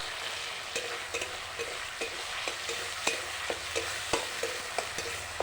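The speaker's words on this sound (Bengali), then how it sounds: "ভালো করে কষিয়ে নেব।" Rohu fish masala with turmeric and tomato sauce sautés in oil, a steady sizzle broken by regular scraping strokes of a spoon against the pan, close and alone with no talk.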